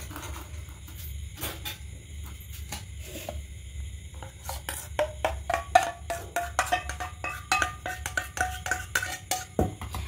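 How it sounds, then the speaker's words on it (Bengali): Metal pot lids lifted off and food transferred into a mixer jar in a home kitchen while making a breakfast batter from atta and semolina; soft clinks and scraping taps, sparse at first, then a quicker run of close, light metallic knocks. "এবার দেখুন ঢাকাটা কিনা খুলে নেব আর এদিকে এই ঢাকাটাও খুলে নেব"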